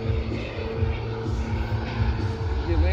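An Aerofoam L-39 Baltic Bee foam model jet flying a low gear pass, a steady whooshing electric ducted-fan drone heard from a short distance, with voices nearby.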